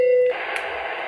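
Steady broadband hiss from a noise setting on a children's sound device, resembling a vacuum cleaner, taking over after a brief pure electronic tone and holding evenly to the end with no talk.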